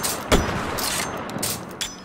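A single sharp gunshot from a pump-action-capable shotgun in the VR game H3VR, followed by faint mechanical clicks and a couple of softer hisses of handling.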